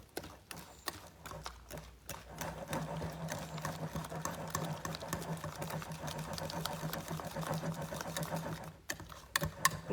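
A Thermomix whips cream at speed 3.5 with a quiet, steady mechanical whirr and rhythmic clicking that runs almost the whole time. A few small knocks come at the start and the end.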